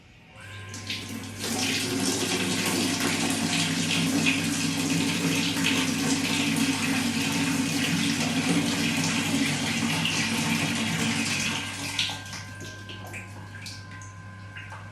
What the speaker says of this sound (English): we will run the water to make sure that all the waste is clear